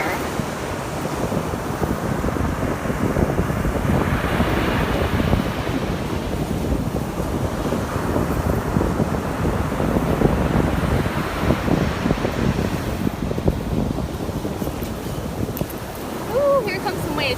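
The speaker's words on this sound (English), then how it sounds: "Ooh, here comes some waves." Ocean surf washes onto a shell-strewn beach, a loud continuous roar of breaking waves mixed with heavy wind buffeting the microphone, swelling and easing over time.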